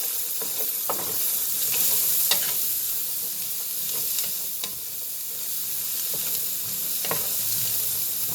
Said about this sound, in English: And we want the onions to get a little brown enough.